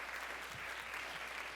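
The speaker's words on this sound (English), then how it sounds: "let's give them all a round of applause, everyone" Steady applause from an audience at a live cast conversation event, a continuous dense patter of many hands clapping at moderate distance with no voices over it.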